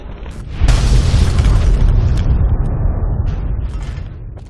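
An explosion in the video game Fallout New Vegas, a sudden loud boom that bursts in, then rumbles and crackles with debris before slowly fading over several seconds.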